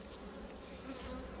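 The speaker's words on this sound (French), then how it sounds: "cet essaim là il vient de la ruche très agressive là" Honeybee swarm from an aggressive hive, a faint, steady hum of many bees droning together without a break.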